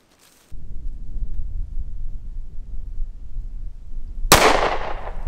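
A single loud, sharp report from a Smith & Wesson M&P M2.0 10mm pistol fired outdoors at a painting target, ringing out and decaying after several seconds of low background rumble.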